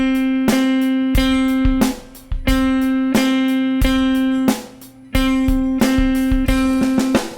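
An electric guitar repeats a single sustained note in an accented rhythm, bright plucked attacks in a steady pulse with a short gap falling on the second beat of each bar, played alone with no voices.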